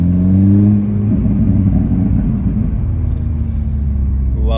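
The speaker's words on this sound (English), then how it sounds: "Gonna get some exhaust burbles going for you guys in the parking lot here" A Hyundai Veloster N sits in first gear in a parking lot, its exhaust loud and close. A droning rev tone fades after about a second into a dense, uneven burbling rumble that runs to the end.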